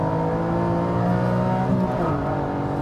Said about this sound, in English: Engine likes the RPM up there.